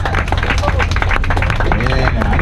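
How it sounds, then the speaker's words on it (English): Tram tour passengers at Universal Studios applaud and cheer their driver, loud close clapping and whoops filling the tram, with voices talking over it. "I know one person in particular who deserves a huge round of applause for some excellent driving"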